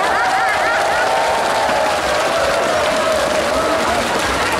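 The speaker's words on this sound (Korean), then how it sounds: "박수를 좀 보내주세요" Applause from an audience at an outdoor summer water festival in Jangheung, a dense steady wash of clapping and crowd noise heard up close and loud throughout, with a faint tone running underneath.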